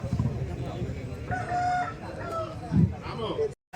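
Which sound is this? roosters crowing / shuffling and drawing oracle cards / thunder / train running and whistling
roosters crowing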